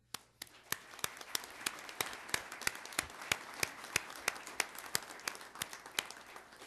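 Applause at a full legislature session, a fairly sparse group clapping in a steady rhythm with distinct individual claps, moderately close and without talk.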